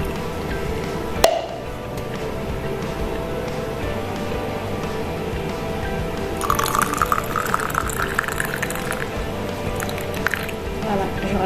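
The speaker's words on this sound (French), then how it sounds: "Voilà, je rajoute de l'eau." Water pours into a jar holding orange peels, a steady filling gurgle with a sharp clink near the start and brighter splashing and trickling in the latter half, while someone talks over it.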